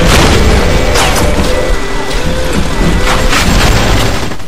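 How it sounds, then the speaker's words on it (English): Dense, loud BioShock combat din of streaming bullets and exploding security bots, with continuous booms, crashes and mechanical clatter layered throughout without a break. "running around avoiding the stream of flying bullets and exploding bots"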